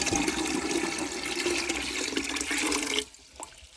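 Water dumped from a stainless steel pot into an off-grid water filtration system in remote Alaska, a loud gushing pour that lasts about three seconds and cuts off abruptly, leaving a faint trickle.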